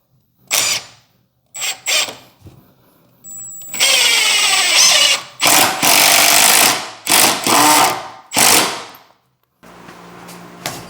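A power drill drives screws into a pine porch swing, giving several short, loud whirring bursts with pauses between and one longer sustained run in the middle.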